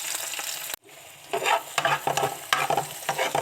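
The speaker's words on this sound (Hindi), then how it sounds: "प्याज का तड़का।" Finely chopped onions frying in hot oil in a frying pan for a tadka, with loud sizzling bursts after a brief pause, as if they were just added and stirred.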